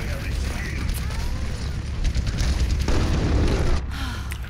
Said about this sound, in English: I forgot he drops grenades when he dies